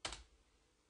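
Brief burst of typing on a computer keyboard, a couple of quick close keystrokes fading into quiet room tone.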